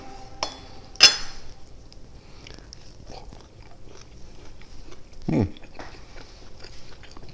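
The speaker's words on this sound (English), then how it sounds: "Give it a little bite, and then we'll keep cutting." Smoked brisket being bitten, with a sharp, close crunch followed by soft, quiet chewing and a second brief bite; room is otherwise hushed with faint background clinks.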